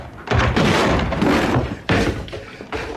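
Heavy blows and crashes of a door being forced open, staged as a radio drama effect, loud and close, with several thudding impacts in a rough sequence.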